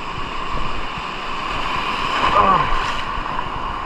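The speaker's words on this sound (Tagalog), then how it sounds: "Laki lang talaga ng alon dito." Big sea waves surge against a rocky shore at high tide, a continuous broad wash of surf with wind rumble, heard close and fairly loud.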